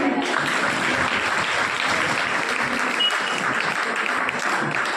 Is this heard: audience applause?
yes